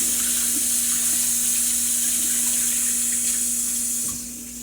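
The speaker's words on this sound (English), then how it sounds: "Washing my hand off real quick for you folks." Tap water runs steadily into a kitchen sink as hands are rinsed, a continuous close hiss of flow that fades near the end, with a faint steady hum underneath.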